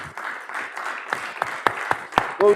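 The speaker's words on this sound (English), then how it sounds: "Moi aussi, on t'applaudit, Stanislas." An audience claps during a French tech talk show, with scattered, uneven claps over a few seconds and a brief voice at the end.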